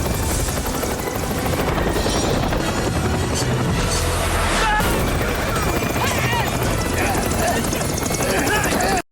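Helicopter from the film Vertical Limit, a loud continuous rotor roar with crashing and thumping movie effects mixed in, voices speaking over it throughout.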